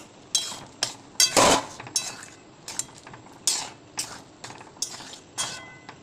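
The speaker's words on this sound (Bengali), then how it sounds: "আগে চামচটা দিয়ে একটু ঘুরিয়ে নেবো ডালটা" A metal spoon stirs cooked vegetable dal with papaya in a pot, giving a series of sharp clinks and scrapes against the vessel at an irregular rhythm, close and fairly loud, with no talking.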